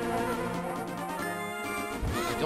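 Bees buzz in the video game Zelda: A Link to the Past, a dense, steady electronic drone with layered tones that holds for the whole moment, loud and close, with a brief swooping note near the end.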